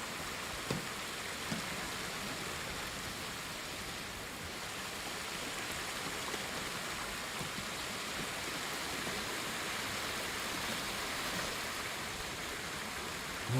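Continuous rushing water of a waterfall in the video game Ghost of Tsushima, a steady broadband roar that holds at even loudness throughout with no voices.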